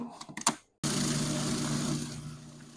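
Food processor grinding fresh spruce tips with sugar, a few short clattering pulses, a brief pause, then a loud, steady whirring grind that runs on without stopping.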